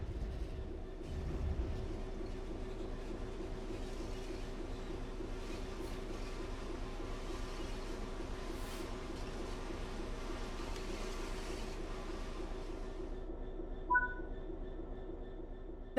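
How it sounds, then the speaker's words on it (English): A simulated train rumbles steadily as its brakes are held on to bring it to a complete stop, a continuous low mechanical drone with faint clatter, easing off toward the end with a brief soft chime near the finish. "bring this train to a complete stop by holding the brake control in the apply state"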